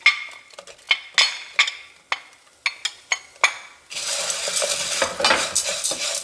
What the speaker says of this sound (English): Now I'm going to add the carrots and onion. I'm going to continue the saute for a couple of minutes.